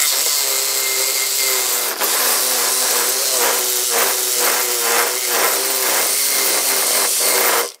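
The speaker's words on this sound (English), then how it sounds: "Sawzall with a questionable blade, but it's what we have." A Sawzall reciprocating saw fitted with a poor, cheap blade cuts through material with a loud, harsh buzzing and a rapid pulsing stroke rhythm, running continuously before stopping abruptly at the end.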